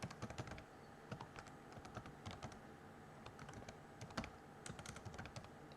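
Keys on a computer keyboard clatter steadily at close range, quick irregular taps in bursts with short pauses, over a low room hum and with no one speaking.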